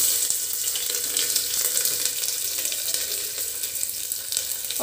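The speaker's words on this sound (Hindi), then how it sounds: "प्याज को ना ब्राउन होने तक फ्राई कर लूँगी अच्छे से" Onions fry in a pan with a continuous moderate sizzle and crackle, steady and alone with no voices, fairly close.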